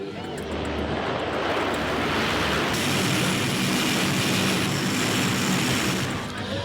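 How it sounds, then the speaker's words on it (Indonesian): A loud, steady roar of aircraft engines fills the air at a military transport aircraft open day at Husein Sastranegara Air Force Base in Bandung, West Java, continuous and close, with a slight shift in tone partway through. "Pangkalan TNI Angkatan Udara Hussein Sastra Negara Bandung, Jawa Barat menggelar Open Base Static Show pesawat angkut TNI."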